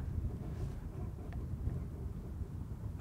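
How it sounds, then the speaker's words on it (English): Wind buffets the microphone at a model glider competition airfield, a constant low rumbling roar with gusty swells and no other clear sounds. "And we have quite a wind blowing."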